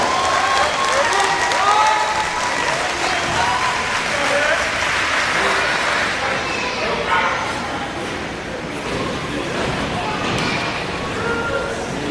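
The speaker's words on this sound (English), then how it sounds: "let's give another round of applause to our guest speaker, Congressman Pete Sessions" Audience at a Job Corps event applauds a congressman guest speaker, a sustained wash of clapping with crowd voices and cheering mixed in throughout, easing slightly toward the end.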